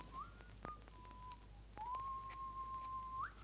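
A person whistles a few short notes and then holds one long, steady whistled tone before it rises at the end. The sound is close and clear over a quiet room.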